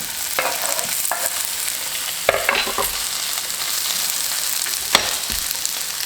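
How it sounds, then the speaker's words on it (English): Cubed potatoes for corned beef hash fry in a pan over just under medium heat, a steady broadband sizzle running throughout with a few sharper scrapes and clinks as they are stirred. "I am now going to add my cubed potatoes."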